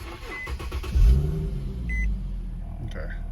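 A 2008-2013 Infiniti G37S coupe engine turns over by push-button start with a short low rumble, then settles into a quiet idle hum, with faint electronic beeps.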